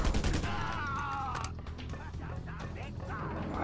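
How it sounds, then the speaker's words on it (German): A dense burst of rapid gunfire from the open-world action video game Just Cause 2, loud and close, with a mechanical whine and crashing impacts and a steady rumble of combat noise behind it. "Wir schießen hier schon wieder."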